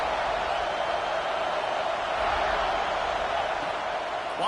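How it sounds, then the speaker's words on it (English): A stadium crowd roars in a college football video game, a broad steady wash of noise filling the whole stretch at even loudness. "This crowd ready to make its presence known."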